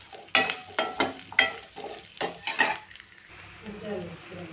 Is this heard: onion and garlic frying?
yes